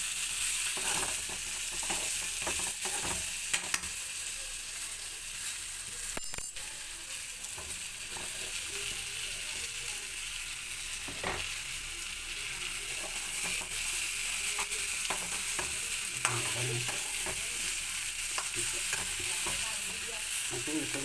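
Brinjal stir-fry with crushed chili sizzles steadily in a pan, with scraping stirs and clinks of the spatula throughout, fairly quiet and with no voices.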